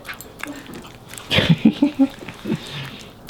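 A pet dog chews a big chunk of peanut butter, giving a short run of sticky, smacking mouth sounds close by, with someone talking faintly around it.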